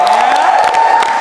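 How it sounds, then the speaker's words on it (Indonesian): An audience claps and cheers for a comedian at a stand-up show, a brief loud burst of crowd noise with a sustained whoop riding over the clapping. "gue mau tepuk tangan dulu lagi dong buat temen gue Kaizan"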